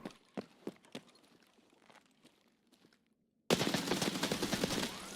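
Gunfire from a gun in the video game Escape from Tarkov. Several sharp shots come first with quieter gaps between them, then after a brief silence a loud, dense burst of rapid fire closes the clip.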